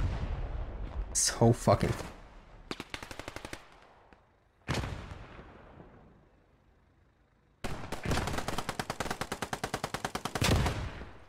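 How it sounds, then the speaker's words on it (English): Pistol fire in a video game plays out in sharp bursts of rapid shots, separated by gaps and decaying tails, with a brief voice near the start. "I think I need to fire two shots from this pistol gun."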